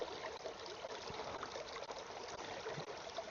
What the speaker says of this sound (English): then we're going to scoop up some of this creek water